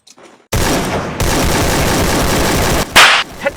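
Rapid automatic gunfire in the Free Fire video game, a loud sustained burst of shots filling most of the stretch, then a brief pause and a sharper blast near the end.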